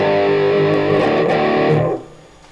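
An electric guitar through a Line 6 Pocket POD with distortion and drive switched on plays a thick, sustained distorted chord that cuts off abruptly near the end, loud and close.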